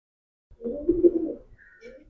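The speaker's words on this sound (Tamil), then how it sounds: "பின்னாடி பேக்ரவுண்டு சத்தம், புறா பக்கத்தில் சத்தம் போட்டுகிட்டே இருக்குது." A pigeon coos repeatedly close by in a low, throaty burble near a home kitchen where brinjal drumstick sambar is cooking, followed by a softer second coo and a faint higher tone.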